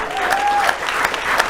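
A studio audience at a comedy talk show bursts into brief, dense applause, many hands clapping steadily and close for a second and a half with a thin tone briefly audible beneath.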